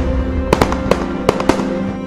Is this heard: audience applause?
no